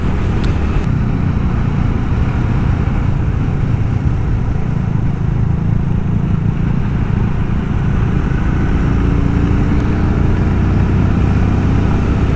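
Motorcycle engine running steadily at speed on a road near Tétouan, a loud continuous drone with wind rush, alone with no talking.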